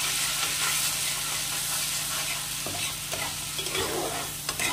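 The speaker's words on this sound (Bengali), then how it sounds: "নিয়ে এখন বেটে রাখা মশলাটা এর মধ্যে দিয়ে দেবো, দিয়ে মশলাটা একটু কষিয়ে নেব।" Ground spice paste fries and is stirred in a pan for an egg curry, with a steady loud sizzle and scraping strokes of a spoon throughout.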